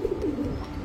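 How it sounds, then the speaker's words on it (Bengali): A pair of Homer pigeons, male and female, coo softly in repeated low throaty phrases, close by with steady background noise and no talking. "মাদি হেমার কবুতর হ্যামার জোড়া"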